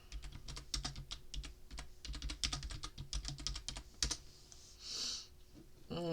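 Rapid bursts of clicking keystrokes on a computer keyboard while searching online, close and fairly loud, with brief pauses between runs of typing.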